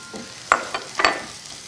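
Mushrooms stir-fried quickly in a hot, oiled pan on high heat give short bursts of sizzling and scraping as they are tossed, a few quick crackling flares over a soft background.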